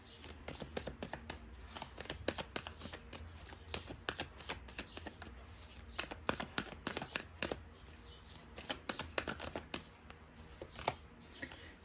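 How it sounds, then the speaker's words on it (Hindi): Tarot cards are drawn and shuffled from a deck, giving dense runs of quiet, close papery flicks and slaps with no talking. "इस डेक से 3 कार्ड्स ऐसे ही निकालेंगे।"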